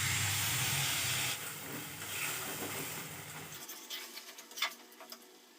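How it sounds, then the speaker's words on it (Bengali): Water hits hot spice paste of garam masala and Kashmiri red chilli powder in a pan for jackfruit kofta curry, giving a loud, steady hissing sizzle that drops off after a second and fades to a soft, crackling simmer. "অল্প জল দিচ্ছি।"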